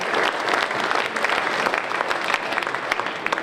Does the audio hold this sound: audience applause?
yes